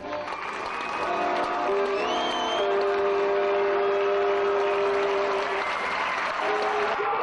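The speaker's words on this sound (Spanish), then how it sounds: "Vamos, un aplauso para las estrellas del espectáculo de hoy, los mejores patinadores del mundo" A crowd on a cruise ship applauds the skaters after their show, the clapping swelling within the first second into a sustained, loud roar. Held musical tones ring through it.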